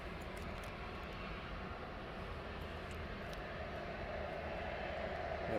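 A jet airliner pushing back at East Midlands Airport at night, heard as a steady, distant engine rumble and whine that holds at an even level throughout, with no talk.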